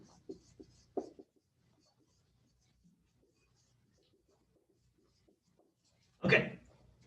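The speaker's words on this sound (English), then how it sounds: "I'm gonna write that down." Pen or marker writing notes during a zoology lecture, a few short scratchy strokes near the start, then quiet, ending with a louder burst of handling noise.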